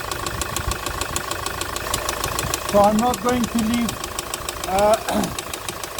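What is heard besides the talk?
diesel engine loudly banging and knocking while running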